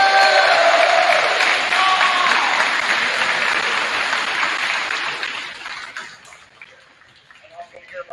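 A banquet crowd at a Bolivar-Richburg sports awards dinner gives a hearty round of applause for Mr. McDowell, loud and full at first, then tapering off over several seconds into scattered claps and room murmur.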